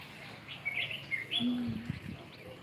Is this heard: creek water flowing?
no